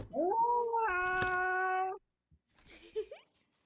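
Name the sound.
cat meowing in a video game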